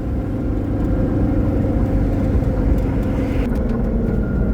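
Traffic jam at a road-work site at Gavlane junction, a loud low rumble of idling and creeping engines close by, steady throughout.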